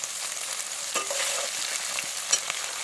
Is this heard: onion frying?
yes